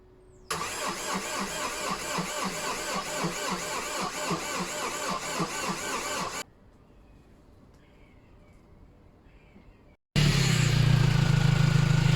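After an engine replacement, a Vauxhall Vivaro 1.9 CDTI diesel van cranks with a rapid rhythmic churn for several seconds, then goes quiet. It catches with a sudden loud roar and runs steadily at close range.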